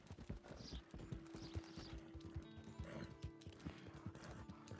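Horse hooves clip-clopping at a run in Red Dead Redemption 2, a gray mustang galloping, with steady rhythmic thuds close up alongside game ambience.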